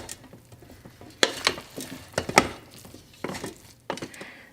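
Spoon stirring cooked leftover turkey, pineapple and rice inside an Instant Pot, irregular scraping clacks and knocks against the metal insert, close and fairly loud, with no talking.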